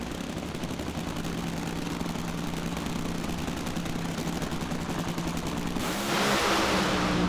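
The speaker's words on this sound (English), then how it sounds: "Dan Wilkerson smokes the tires. Beckman's on and off the throttle" Nitro Funny Cars roar down a drag strip with smoking tires and on-and-off throttle, a continuous rattling, crackling engine blast that swells louder near the end.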